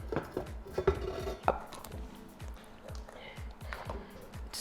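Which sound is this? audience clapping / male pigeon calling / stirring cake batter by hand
stirring cake batter by hand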